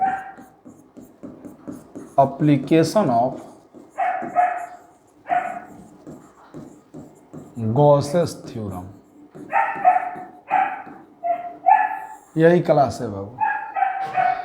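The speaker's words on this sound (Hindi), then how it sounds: "देखिएगा कुत्ता उत्ता भी भौंक रहा है" A dog barks repeatedly nearby in short bursts and yips, scattered irregularly while a man lectures on Gauss's theorem over it.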